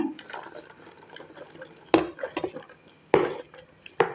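Chopped onions and green chilies dropped into a bowl of semolina batter for rava paddu, with soft scraping and three sharp clattering spoon knocks against the bowl, close and alone.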